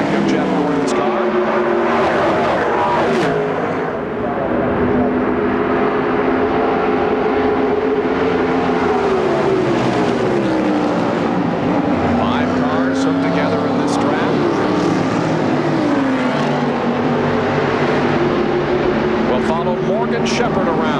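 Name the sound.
NASCAR stock cars racing past at Indianapolis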